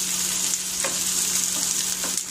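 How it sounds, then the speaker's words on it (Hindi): Chopped onions sizzle steadily in a hot pan, a continuous close frying hiss with a few soft stirring scrapes and no talking. "तो चलो पहले अनियन डालते हैं। इसे हमें सॉफ्ट होने तक भूनना है।"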